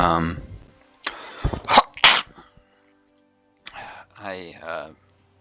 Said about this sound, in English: I apologize about the cough